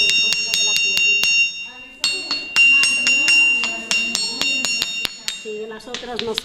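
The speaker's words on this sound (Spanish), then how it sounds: "Esta es la piedra campana, usted puede escuchar." Repeated sharp metallic-sounding strikes ring out from a ringing 'bell stone' in a museum in Putumayo, Colombia, each leaving a bright bell-like tone, with a few faster hits near the end and a voice speaking underneath.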